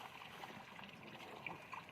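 Dirty, soot-laden water trickles and drips faintly from a car air conditioner evaporator onto a covered floor, a soft continuous dribble with occasional small splashes.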